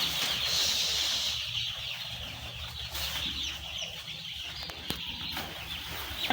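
Baby chickens in their coop cluck and cheep continuously at close range, with occasional wing flutters and a few sharp knocks as the paper lining is changed.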